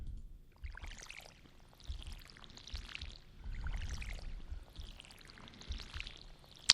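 Watering parsnip crops in Stardew Valley: repeated soft splashing pours from a watering can, each lasting about a second, over faint low background rumble.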